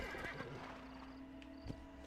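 A horse whinnies in the Red Dead Redemption video game, a short nasal neigh rising over a steady background of hooves and ambient game noise, followed by a brief sharp snort near the end.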